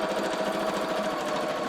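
A sewing machine runs in a fast, even burst of stitching as it joins cosplay wig pieces. The needle chatter is close and continuous, with no talking over it.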